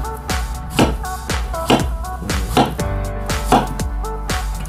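A knife cutting ripe bananas into pieces, making five or six crisp, evenly spaced chops against a board, each one close and clear with quiet music underneath.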